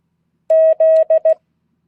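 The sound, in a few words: Morse code letter Z tones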